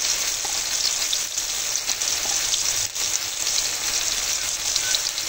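Chopped tomatoes frying in a pan for a fish-head muri ghonto, a loud, steady close sizzle with faint stirring scrapes throughout.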